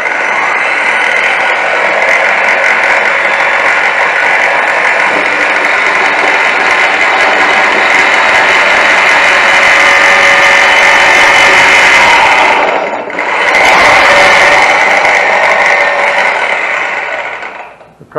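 A Grizzly G0781 two-speed mill drill with a dull bit drilling a test hole, a loud steady whirring grind that dips briefly once and then continues before winding down.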